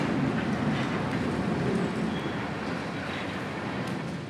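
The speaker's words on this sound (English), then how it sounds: "The greenery would be pierced by our red engine, with a steady engineer at the throttle, keeping his train moving as they once again ascend a solid hill." A red diesel freight locomotive on the Florida Northern Railroad labors up a hill, a steady broad rumble and wheel noise that holds level and then eases slightly.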